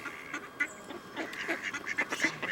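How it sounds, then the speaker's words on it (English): Ducks and swans by the water in Italy give a busy run of quacks and honks close by. The calls overlap and keep on without a break. "watching a lovely horde of ducks and swans"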